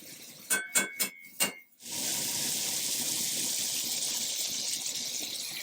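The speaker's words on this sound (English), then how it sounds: "Now you can put a little water in there to let it cook down" Four metallic clanks ring out, then water gushes steadily into a pan of bacon and Brussels sprouts, a loud continuous pour close by.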